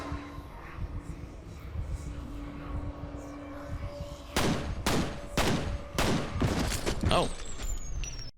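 Gunfire rings out as a ghost is shot in the horror shooter F.E.A.R.: a sequence of loud, sharp bursts starting about halfway through, following a quieter ambient stretch, with some voice in the background.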